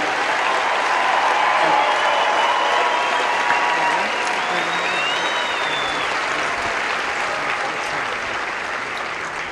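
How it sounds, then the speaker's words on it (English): Steady, full applause from a ceremony audience thanking military training instructors at an Air Force coin ceremony, sustained throughout and tapering slightly toward the end, with a faint whistle or cheer rising above it midway. "please join me in a round of applause"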